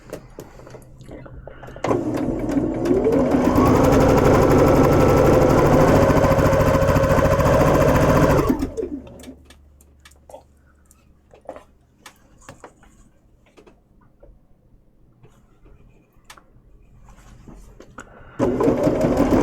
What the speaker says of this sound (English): And we're going to join these together. And let's get sewing.